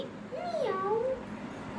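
A child imitates a cat with a single drawn-out meow, its pitch rising and then falling, close and clear over faint room noise.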